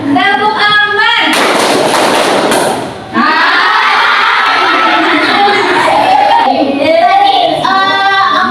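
A class of children at an Islamic school clap together in a burst lasting a couple of seconds, then a lively crowd noise of shouting and cheering follows, with an adult voice talking before and after.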